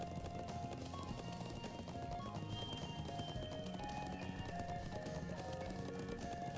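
Galloping horse in the video game Legend of Heroes: Trails of Cold Steel, a steady run of hoof clip-clops layered over in-game music that plays continuously throughout.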